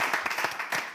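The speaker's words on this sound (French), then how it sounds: "Bien, on applaudit, ils vont commencer." A short burst of audience applause, with dense, close hand clapping that fades toward the end.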